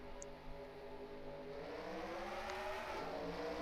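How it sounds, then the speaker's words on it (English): Race cars lap a track in an online sim racing stock car series at Chatham, a steady layered engine drone with rising revving pitches as the field pulls away. "And now Nick Smith is going to lead us back to the green flag. Here we go, lap 11 of 20."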